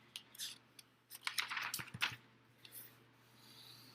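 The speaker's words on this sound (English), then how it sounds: "I'm going to fold my paper in half here." A sheet of paper is folded in half close up, a brief burst of crisp rustling and creasing scrapes with a few sharp crackles, no talk.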